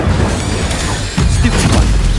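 Incendio fire spell cast in Hogwarts Legacy, a loud close burst of whooshing flame with a booming impact, dense and roaring throughout.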